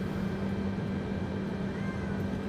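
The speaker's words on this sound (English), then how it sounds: "My cat is meowing." Cat meowing indoors over a steady low hum of aircraft cabin noise during an A320neo flight, the calls faint and partly masked by the drone.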